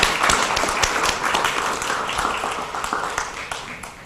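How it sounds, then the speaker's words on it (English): An audience applauds an honoree at an Essex County Jewish heritage ceremony, a dense, moderate patter of many hands clapping steadily and tapering slightly toward the end. "Please give her a round of applause as she joins me."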